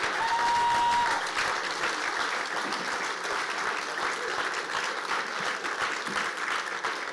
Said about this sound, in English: one big round of applause for these great athletes